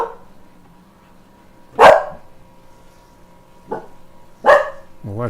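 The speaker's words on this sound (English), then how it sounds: "Dogs are excited and happy for his win." Excited dogs bark at a monster truck race event: three or four sharp, separate barks spaced a second or two apart, the last rising like a yelp, over a low steady hum.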